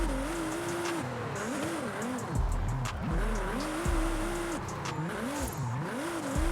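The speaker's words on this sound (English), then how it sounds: "Let's get some heat into these tires and let's hit the drift zone." A Nissan GTR R35 drifts in Forza Horizon 5, its engine rising and falling in repeated revs while the tires squeal in long wavering bursts, loud and continuous throughout.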